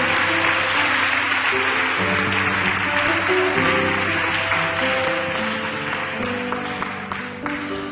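Sustained crowd applause at a church service welcoming a pastor, dense and steady, with music playing underneath and tapering slightly toward the end.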